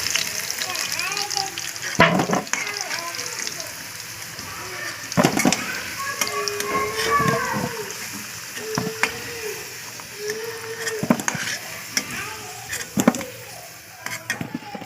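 Potatoes and pointed gourd sizzle as they fry in a pan, a steady close hiss broken by sharp clatters of stirring, with faint voice-like tones now and then.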